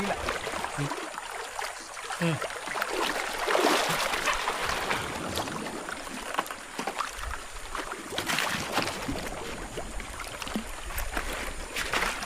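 A boat moves along a shallow river in a steady, close wash of rushing water and hull noise, with surges and brief knocks that may be the hull scraping the riverbed.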